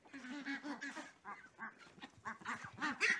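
Ducks quack and honk in a busy, overlapping chatter over chopped fish, close by, with no talking.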